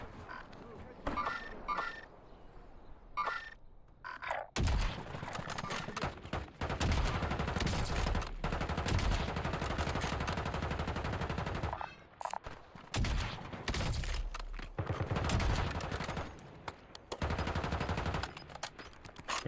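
Rapid bursts of gunfire from a multiplayer shooter video game, with snipers firing from below and enemies in a tunnel, dense and loud across most of the stretch, following a few sparse, quieter moments at the start.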